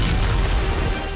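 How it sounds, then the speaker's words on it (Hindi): A deep, heavy blast from a Russian FAB-3000 bomb, a dense booming roar that fills the low end and sustains with rumble throughout. "यह रूस के फैब 3000 बम का हमला है।"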